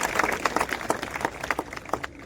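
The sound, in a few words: audience clapping for the village head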